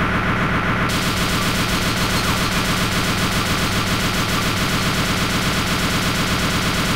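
Players in DayZ pour continuous, loud automatic gunfire at a helicopter, a dense unbroken rattle of shots with an engine hum underneath, and no talk.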